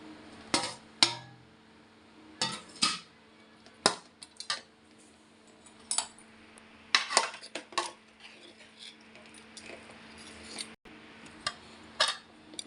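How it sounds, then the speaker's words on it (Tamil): A metal spoon clinks and scrapes against a pan as cooked, cooled rice is tossed and mixed for fried rice. The knocks come in irregular bursts with quiet gaps between them, and no talking. "இப்போ சாதத்தை போட்டு கலந்துக்கலாம்"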